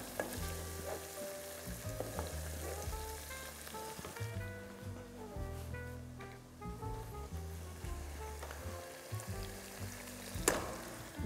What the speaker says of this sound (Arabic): باش نزيد قرن فلفل اخضر نملحو وباش نحطو في التقليه نتاعي يتقلى مع الطماطم